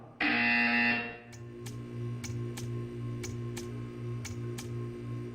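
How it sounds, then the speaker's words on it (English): A loud electronic buzzer blares for about a second in the Portal 2 video game, followed by a steady low hum and a series of evenly spaced ticking clicks. "You will hear a buzzer."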